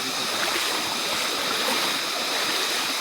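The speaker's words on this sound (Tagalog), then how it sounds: "Ito yung ika-6 na ilog." River flowing on the Mt Irid hike, a loud, steady broadband rush of water over rocks, close and continuous.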